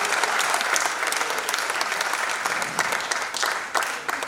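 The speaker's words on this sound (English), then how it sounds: "a round of applause." A crowd at a tribute event for a Nigerian musician gives a round of applause, with dense, sustained clapping for over four seconds and a few sharper claps standing out near the end.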